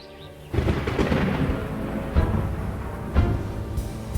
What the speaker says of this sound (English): As they searched, a storm hit.